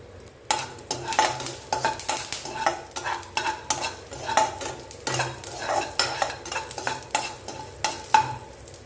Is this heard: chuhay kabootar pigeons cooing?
no